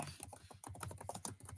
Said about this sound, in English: I'm just typing up the poll question